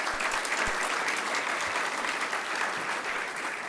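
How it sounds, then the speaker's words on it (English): A conference audience at a Southern California water infrastructure panel applauds, a steady, fairly soft roomful of clapping that holds evenly throughout, heard from some distance. "Can you give me a round of applause for Director Abdullahi?"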